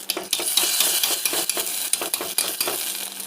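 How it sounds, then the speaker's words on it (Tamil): Brinjal kadayal being stirred in a pot after tempering is added, with repeated scraping and stirring strokes over a steady frying sizzle, close and moderately loud, no talking. "அதுக்கு நம்ம ரெடி பண்ண தாளிப்பு ஆட் பண்ணிக்கலாம்"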